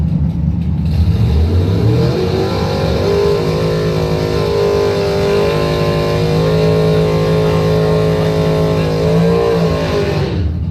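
A bracket drag racing car launches from the line and accelerates hard, its engine roaring loud and close for about ten seconds, with the pitch climbing steadily through the run.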